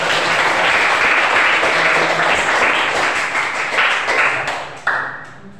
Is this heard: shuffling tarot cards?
no